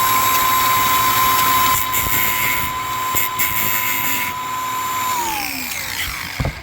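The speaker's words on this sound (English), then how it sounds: "let's just touch these corners down with a grinding wheel" Grinding wheel grinding down the corners of a metal part for a temporary emergency rudder on a C&C 39 sailboat, a loud continuous high whine that holds steady, then drops in pitch as it winds down near the end.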